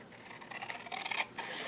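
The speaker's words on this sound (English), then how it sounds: "you're going to grab your scissors and you're going to cut" Scissors snipping through paper to trim a small triangle from an envelope for a craft booklet; quiet, close, rapid crisp cutting strokes with soft rustling, no voices.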